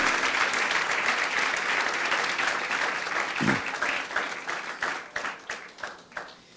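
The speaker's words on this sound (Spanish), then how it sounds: "¿Cuántos dan un fuerte aplauso a la Biblia, que es la palabra de Dios?" A church congregation breaks into applause at a sermon, broad clapping sustained for several seconds and then thinning into a few scattered, separate claps at the end.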